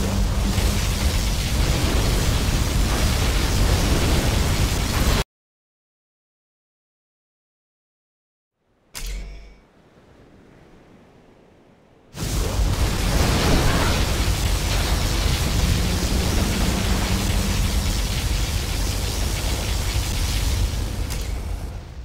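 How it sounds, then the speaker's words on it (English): Particle cannon firing in the video game Command & Conquer Generals, a loud roaring blast of dense noise that cuts to silence, then returns as a sustained heavy rumble. "Particle cannon activated."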